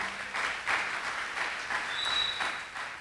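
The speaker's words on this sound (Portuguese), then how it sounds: "Uma salva de palmas para o Juninho" Applause for Juninho rises and falls through a church service, fairly quiet and diffuse with a faint high whistle-like tone near the end.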